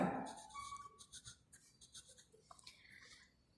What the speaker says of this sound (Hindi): Number 6 पे हम लिखेंगे Potwar